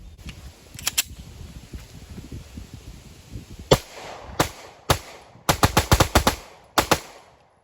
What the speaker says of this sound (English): whenever you fire this, you're locked in for that next round, because every motion is a round fired